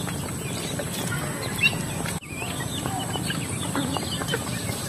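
Chickens cluck and chicks peep softly in a steady rustling farmyard background, fairly close, with no talking.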